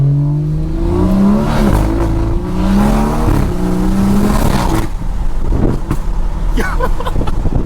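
A BMW 340i with a B58 engine and a very loud aftermarket exhaust revs up close, rising and falling several times in a deep, booming roar, then settles into a rumbling idle.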